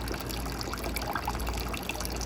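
Water pours steadily out of a machine, a continuous trickling, splashing flow that stays close and even throughout with no talking.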